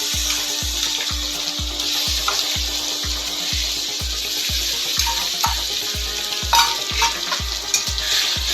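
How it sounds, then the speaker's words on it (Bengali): Garlic, ginger and onion paste frying in hot oil for bhetki fish jhal, a steady loud sizzle with a regular rhythmic scraping of a spatula stirring the pan throughout. "পেঁয়াজ বাটা দিয়ে আবার আমি কিছুক্ষণ একটু তেলের মধ্যে ভেজে নেব"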